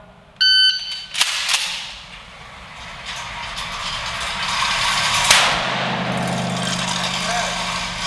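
Shotgun blasts at a shooting range sound as two sharp, loud cracks a few seconds apart, the first following a short electronic beep, with a steady background hum after them.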